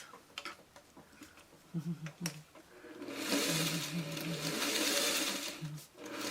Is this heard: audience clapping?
no